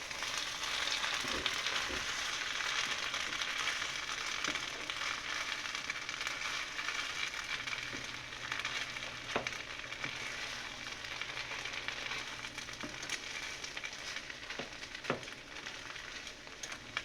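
A pan of oatmeal biko sizzles steadily while it is stirred, with a continuous fizzing hiss and occasional soft scrapes and knocks of the spoon against the pan.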